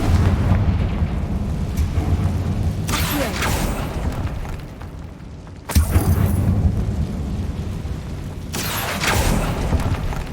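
A Confringo fire spell in a Harry Potter video game sets off big explosions in a catacomb, giving heavy roaring bursts with long rumbling decay. Two or three blasts arrive one after another over a low game ambience, with no talking.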